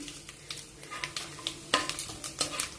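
Soft, quick kitchen clicks and scrapes of a utensil in a pan, with a light crackle of cumin seeds sizzling in oil underneath; quiet and close, no talking.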